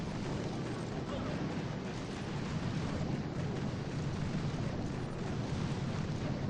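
Artillery fire in the mobile strategy game Boom Beach gives a dense, continuous barrage of muffled booming explosions, blending into a steady rumbling wash throughout.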